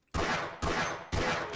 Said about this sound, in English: Shotgun shot.